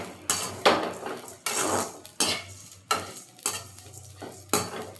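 Dried shrimp (chennakunni) dry-roasting in a pan, stirred in regular strokes. Each stroke gives a loud scraping rattle, with a faint crackle between them and no voices.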